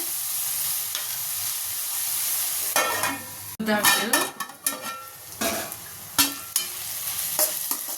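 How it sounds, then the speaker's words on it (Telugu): Tomatoes cook in a pan for homemade macaroni pasta, a constant sizzle broken midway by loud clattering stirs and scrapes of a utensil against the pan, with no talk. "టమాటా వేసుకొని కలుపుకొని మూత పెట్టి ఒక 5 నిమిషాలు మగ్గించుకోవాలి టమాటాని"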